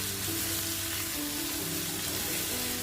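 Garlic-ginger paste and chili fry in hot oil for a brinjal pickle, a dense, steady close-up sizzle with no voices.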